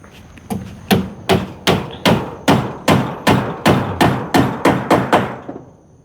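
A hammer knocks down floor boards being laid, about a dozen loud, close thumps in a steady rhythm roughly every half second, with no voices.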